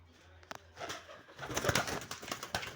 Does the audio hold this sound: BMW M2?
no